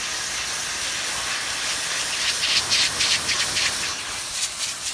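Water rinse spray hisses steadily through an air-conditioner coil during cleaning, a continuous broadband rush with brief surges in intensity and no talking.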